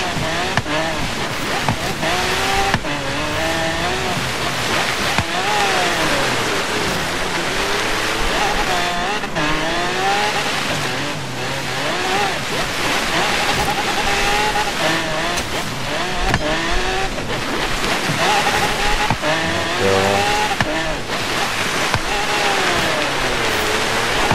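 Game car engine drifting through snow on a blizzard-bound mountain road in Forza Horizon 3, a loud continuous roar with rising and falling revs throughout, constant and close with no pauses.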